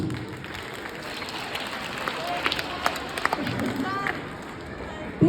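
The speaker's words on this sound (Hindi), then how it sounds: "तालियां देना बच्चों।" Children at a school Holi celebration clap together in a sustained burst of applause, with scattered louder claps and some background chatter mixed in.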